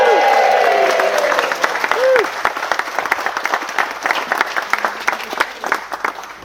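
Wedding guests break into steady, loud applause for flower girls Bonnie and Annie, with a few cheers at the start, the clapping continuing densely throughout and thinning slightly toward the end.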